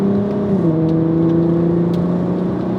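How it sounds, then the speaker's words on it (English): Steady, loud engine drone from a VW Golf MK5 R32 fitted with a Milltek exhaust, holding revs with a slight dip in pitch, close and unbroken for the whole moment. "Actually, the exhaust might be too good."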